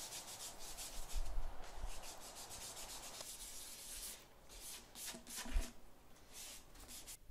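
Sandpaper at about 120 grit rubbing across a wooden speaker cabinet, quiet uneven strokes in bursts, a few louder scrapes and short pauses, close and without talk.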